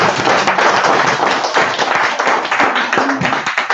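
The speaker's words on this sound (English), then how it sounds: "Wow, give him a round of applause." Audience at a Momentum Black Caucus gathering applauds a first-time speaker: dense, steady clapping filling the room for a few seconds, close and fairly loud, with a brief voice near the end.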